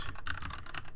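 Quick, steady keystrokes on a computer keyboard, about eight crisp clicks in a second, close and clear with no talking.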